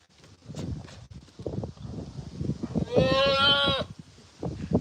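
A goat on a homestead lets out one loud, wavering bleat close by for about a second, surrounded by steady talking before and after it.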